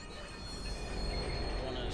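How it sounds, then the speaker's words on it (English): A subway train pulls into a station in the video game Watch Dogs, with a steady, loud rumble and metallic wheel squeal filling the space throughout, plus faint voice-like announcements in the background. "Northbound train arriving shortly."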